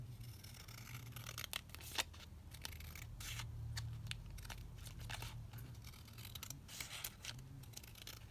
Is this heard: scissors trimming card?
yes